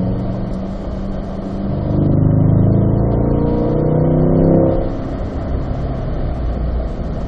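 Corvette C8 engine on a driving-school track, rising to a loud droning roar as it accelerates and shifts up to fourth gear, then easing back into steady rumble, heard close with no talk over it.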